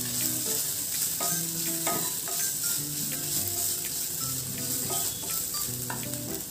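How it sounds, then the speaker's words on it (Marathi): Crushed ginger and green chili frying over medium heat, with a constant bright sizzle under repeated rhythmic scrapes and clinks of a spatula stirring in the pan. "आलं व हिरवी मिरची क्रश केलेली घालणार आहोत। पुन्हा एकदा परतून घ्यायचे आपल्याला।"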